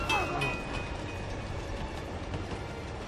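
A train rolls past in the video game Uncharted 2, a dense rumbling clatter with a high squeal at the start, steady and close throughout, with someone talking during it.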